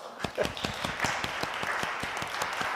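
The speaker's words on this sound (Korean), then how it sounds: "박수 한번 할까요?" A church congregation at a Sunday worship service applauds steadily, with dense clapping from many hands that keeps an even level throughout.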